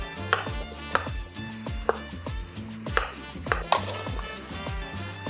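Knife chopping potatoes on a cutting board for a Chavacano estofado, a steady series of sharp, close knocks at an even rhythm with light clatter between strokes and no talking.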